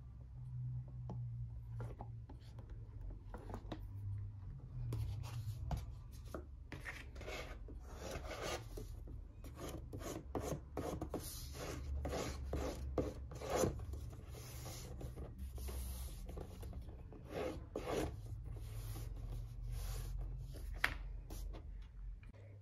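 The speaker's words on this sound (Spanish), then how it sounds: "Extendemos igual con nuestra palita." White glue being spread with a small spatula onto paper tabs while assembling a wedding planner, giving a steady dry rubbing and scraping texture with repeated short strokes, close and fairly quiet, with no talking.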